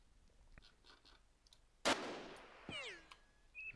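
A sharp gunshot cracks in the tactical video game Jagged Alliance 2, a single loud burst followed by a decaying tail and faint ricochet-like whines.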